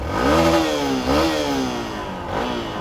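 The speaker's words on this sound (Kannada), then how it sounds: "ಇವಾಗ ಗಾಡಿ ಆನಲ್ಲಿ ಇಟ್ಟಿದ್ದೀನಿ, ಒಂದು ರೇವ್ ಮಾಡೋಣ, ಸೌಂಡ್ ಯಾವ ಥರ ಬರುತ್ತೆ" A motorcycle engine is revved several times nearby, the pitch rising and falling with each throttle blip before settling back.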